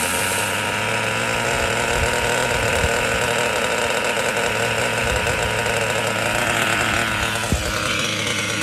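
A Traxxas T-Maxx nitro RC truck engine running continuously after ten years out of use, a loud, close, high-pitched buzzing whine with a knocking rattle underneath, steady throughout with a brief change near the end.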